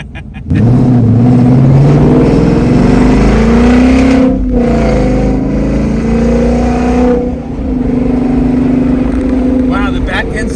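Ford Mustang S550 with a straight H-pipe exhaust revs hard and loud from inside the cabin, a sustained rising and falling engine roar with brief dips, while people talk over it.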